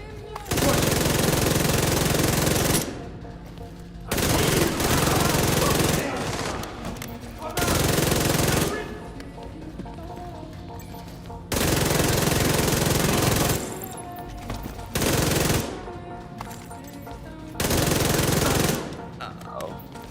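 Enemy gunfire in The Division 2 video game: loud bursts of automatic fire in repeated volleys a few seconds long, separated by brief quieter gaps.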